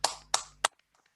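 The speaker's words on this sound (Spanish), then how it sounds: "Un aplauso para Milagro" Three sharp, separate claps, each followed by a short ringing tail, then near silence, as applause for Milagro Sala at a closing online talk.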